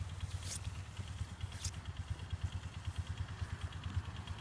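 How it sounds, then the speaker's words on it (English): A four-wheeler pulling a trailer runs steadily, with a low, rhythmic putter throughout and two brief hissy bursts near the start. "That's why we have a four-wheeler running."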